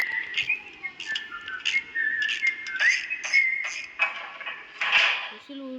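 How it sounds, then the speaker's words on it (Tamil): A character whistling while working in the video game The Baby in Yellow: a close, bright run of short whistled notes and phrases, mixed with occasional light clatter. "விசில் ஊடிக்கிட்டே வேலை செய்கிறாங்க."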